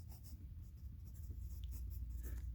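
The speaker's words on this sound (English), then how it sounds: "So we're going to write" A pen scratches steadily across paper while numbers are written out for a math problem, a soft continuous close-up scrawl with no pauses.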